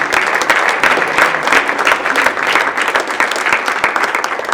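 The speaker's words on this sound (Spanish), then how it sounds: "Den un aplauso fuerte a Dios" A church congregation bursts into strong, sustained applause, dense overlapping claps filling the room at close range for several seconds without letup.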